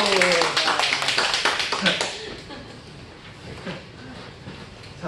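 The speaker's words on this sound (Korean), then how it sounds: "박수." Congregation applause during a Korean church sermon, a burst of clapping from many hands that fades over about two seconds, followed by quieter room noise and scattered taps.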